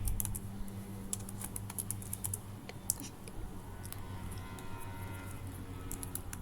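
HTML and CSS code being typed on a computer keyboard, a quick run of soft clicking keystrokes in irregular bursts over a faint low hum, close and fairly quiet.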